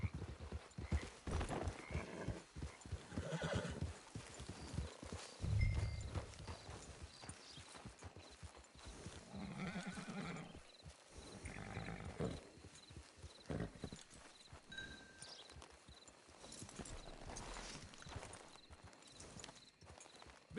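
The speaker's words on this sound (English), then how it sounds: "It's your horse." A horse's hooves clip-clop steadily in Red Dead Redemption 2, a clear repeating walking rhythm close by and prominent, with occasional snorts and mixed game ambience under it, no speech.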